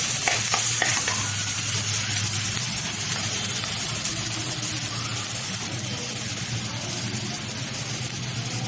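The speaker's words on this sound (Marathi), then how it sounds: "कांदा छान आपण परतून घेऊ लाल होईपर्यंत." Onion and turmeric fry in a pan as a steady, close sizzle with occasional scraping stirs, no voices.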